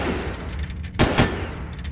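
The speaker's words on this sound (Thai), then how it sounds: "แค่ปืนยิงแม่งก็โคตรดังแล้วฮะ" Gunfire in the video game Far Cry, a sharp loud burst of two or three rapid shots rising out of a rumbling game soundscape.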